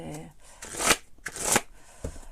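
Sticky tarot cards being pulled apart and shuffled by hand, a few quick papery riffles and flicks in short bursts, close up, with a voice talking in French around them.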